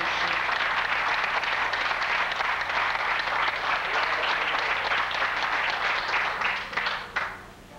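A church congregation gives visiting guests a big, loud round of applause, with dense, sustained clapping that holds steady for several seconds before quickly dying away at the end.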